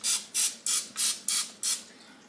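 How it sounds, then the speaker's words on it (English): Six short, evenly spaced hisses from an aerosol cooking spray can coating a baking pan, close and crisp, each burst lasting a fraction of a second. "Do you have to spray the pan or you don't know?"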